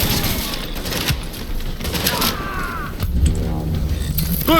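Gunfire in the video game Tom Clancy's The Division: rapid bursts of shots and thuds over a busy game mix, with voices talking over the action.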